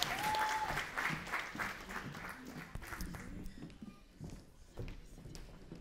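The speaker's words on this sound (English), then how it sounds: "let's give her a round of applause as she comes" An audience at a Congolese Independence Day celebration applauds as a speaker comes up, a fairly soft, continuous patter of many hands that thins slightly near the end, with a little voice mixed in.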